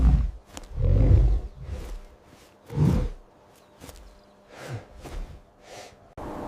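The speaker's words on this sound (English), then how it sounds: "It's a bear." A bear roars in several deep, rumbling, breathy bursts, loud and close, with quieter huffs and gaps between them.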